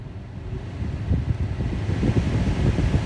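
A Lada Priora heater fan fitted in a Honda Saber blows steadily inside the car, a close, low whooshing hum that grows slightly louder and rougher partway through.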